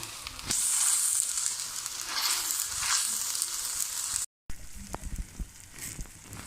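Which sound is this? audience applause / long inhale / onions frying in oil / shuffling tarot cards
onions frying in oil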